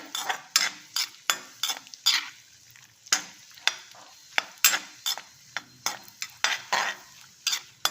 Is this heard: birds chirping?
no